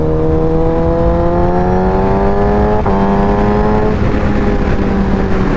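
A Suzuki motorcycle engine hums loud and close as it shifts down through gears after a clutch plate replacement, its pitch rising, then dropping abruptly at a shift before settling into a steady drone.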